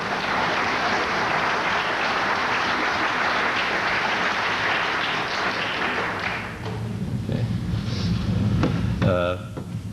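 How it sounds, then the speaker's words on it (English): A burst of applause from the audience at a 1991 APL programming conference, dense and loud for about six seconds before tapering into scattered claps, thumps and a few voices. "Burst of applause."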